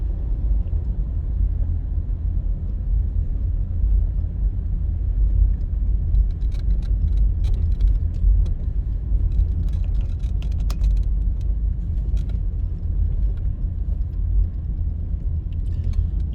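A car driving straight down a road through Molynes Gardens in Kingston, Jamaica, heard from inside the cabin as a steady low engine and road rumble with faint rattles and clicks throughout, no talk.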